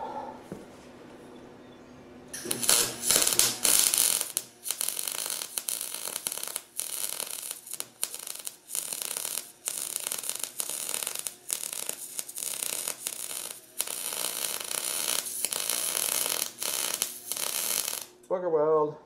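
A wire welder crackles and buzzes loudly while filling a gap on a steel lawn roller, the arc starting abruptly after a quiet hum and running in several bursts with brief pauses, ending in a short sputter.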